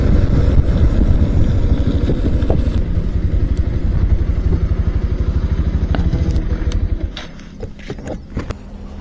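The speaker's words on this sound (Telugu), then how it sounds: "అట్లే బండి నడుపుతున్నా బలవంతంగా, గాలి లేదు ఏం లేదు." Motorcycle ridden on a punctured, airless tyre, a loud close engine drone over a rapid rhythmic thumping and clatter that runs for several seconds, then slows and fades as the bike drops off.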